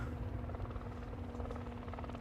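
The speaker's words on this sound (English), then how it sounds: "It's got a helicopter. I think it's the R-22 again." A Robinson R22 helicopter flies near Gold Coast Airport, its steady rotor drone and buzzing engine hum continuous and moderately distant throughout, with no voices.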